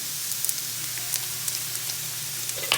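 Food sauteing in a pan on a home stovetop, a soft steady sizzle with scattered faint pops and crackles, no voices.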